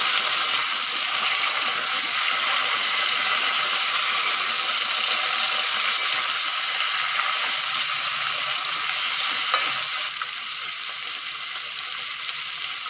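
Mixed vegetables fry in a hot pan with a loud, steady sizzle and hiss that stays continuous for the whole stretch, dropping slightly in intensity near the end, with no voices.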